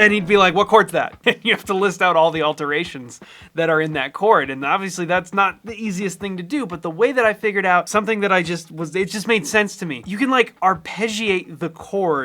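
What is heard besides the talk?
No everyday noises stand out.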